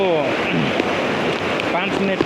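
Floodwater rushing down the swollen Khahare stream in Boudha, a steady loud roar of churning water with blustery wind noise on the microphone, continuous for a couple of seconds with a voice faintly underneath.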